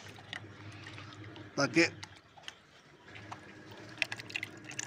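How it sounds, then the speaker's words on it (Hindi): Water sloshes and splashes in a container as roughly nine litres of it are stirred to mix in chicken medicine. A brief louder swirl of liquid is heard near and soft under someone talking in Hindi. "ये मैं अच्छी तरह हिलाऊंगा पानी को"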